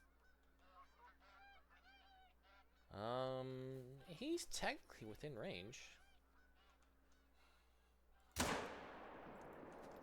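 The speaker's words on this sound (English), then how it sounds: "Oh, that's geese." Geese honk in a loud burst of repeated calls within The Hunter: Call of the Wild hunting game, over a quiet outdoor ambience, with someone talking briefly and a sharp crack near the end.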